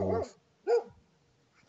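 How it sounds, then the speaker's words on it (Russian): Dogs barking in the Siberian taiga forest, a burst of sharp barks at the start and another single bark midway, close and fairly loud, with quiet gaps between them. "Вот они облаивают."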